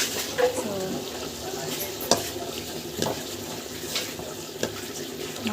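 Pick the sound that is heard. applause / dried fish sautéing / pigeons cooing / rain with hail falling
dried fish sautéing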